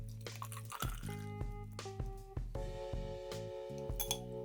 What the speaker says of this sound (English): So we are gonna strain this in here.